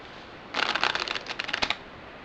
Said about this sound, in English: We're going to look at table shuffles next.